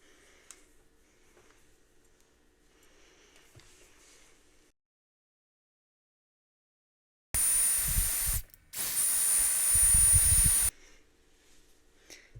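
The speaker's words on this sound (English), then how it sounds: "just gonna give it a good coating of hairspray" Monat Studio One Flex Control hairspray is sprayed onto hair in two loud, close, hissing bursts, the first about a second long and the second longer, with quiet rustling before and after.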